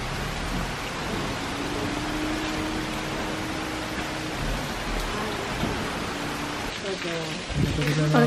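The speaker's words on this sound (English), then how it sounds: "I love that it's raining." Heavy rain falls steadily in Kyoto on a hot, humid day, a dense even wash of downpour close by, with a brief clatter of nearer activity near the end.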